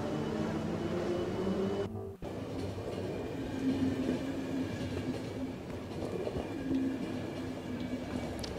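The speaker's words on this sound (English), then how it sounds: "Fantastic train." A train in the video game The Final Station rumbles steadily with a low mechanical drone and faint clacking, interrupted by a brief sharp break partway through, then continuing evenly without speech.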